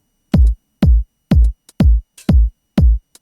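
A 90s house drum beat of evenly spaced punchy kick hits, about six in three seconds, with short ticking hi-hat accents between them, dry and loud with no voices.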